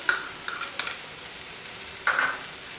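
Spinach, mushrooms and capsicum sizzle softly in a pan with softened onion, with a few distinct scrapes of stirring spaced apart and no talking.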